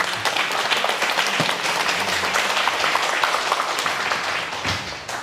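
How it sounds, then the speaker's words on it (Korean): A lecture audience breaks into applause, a dense, fairly loud wash of clapping that holds steady for several seconds before tapering slightly at the end. "박수 한번 부탁드립니다."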